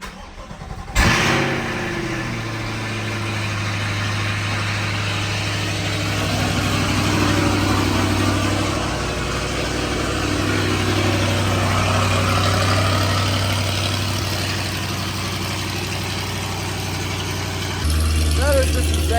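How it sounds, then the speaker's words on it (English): A Chevrolet Corvette C8 cold-starts with a sharp crank and bark, then settles into a loud, droning high idle that swells and eases over many seconds, with a voice talking over it. "That is so insanely loud. The cold starts on the C8."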